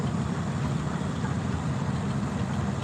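An antique tractor engine idles steadily at a street-fair tractor pull, a continuous low rumble close by with no talk over it.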